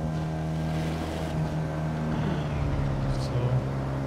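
A car engine in the video game Watch Dogs 2 drones and revs steadily as the vehicle accelerates, a low sustained hum with a rising tone toward the end, heard alone at moderate loudness.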